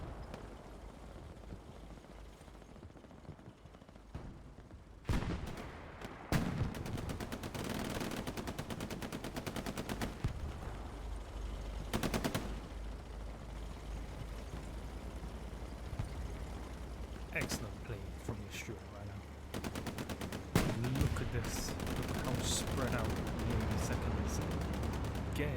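Machine gun fire in a WWII video game on Utah Beach, with bursts of rapid automatic shots near and far over ongoing battle noise, as a voice talks throughout.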